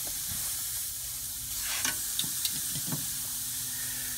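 Chicken breasts sizzle steadily on a Big Green Egg grill at high heat, a continuous close hiss of frying with a few brief crackles and pops rising over it.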